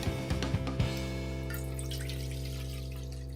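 Water poured into a cooking pan for rice, with a few knocks and clunks at the start, then a steady, close stream trickling and gurgling at moderate volume.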